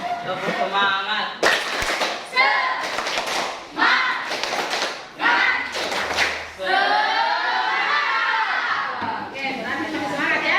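A classroom of children performs a rhythmic spirit clap, bursts of sharp unison claps alternating with loud group chanting and shouting, close and lively.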